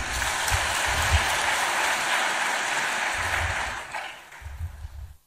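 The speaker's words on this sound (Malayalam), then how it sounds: "നമുക്കൊരു നല്ല കയ്യടി കൊടുക്കാം." Applause from a church parish congregation at an ordination gathering, a broad steady wash of clapping that holds for several seconds, then thins and fades out near the end; no talking.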